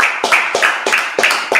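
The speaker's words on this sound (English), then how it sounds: "So clap it up." A congregation at a Day of Atonement gathering claps in a steady, even rhythm, several sharp close claps in quick succession.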